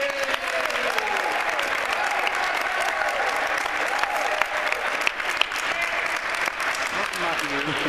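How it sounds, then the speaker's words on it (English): Audience applause at a national letter of intent signing for a Huntington Prep basketball player, a sustained dense clapping that holds steady throughout, with faint voices mixed in. "Give them a round of applause."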